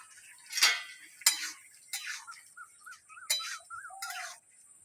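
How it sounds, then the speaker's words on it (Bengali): A metal lid lifted off a cooking pot of simmering red amaranth greens with lentils: several bright, close clinks and scrapes spaced about a second apart, with faint bubbling and quiet gaps between them. "ঢাকাটা খুলে দেখে নেব।"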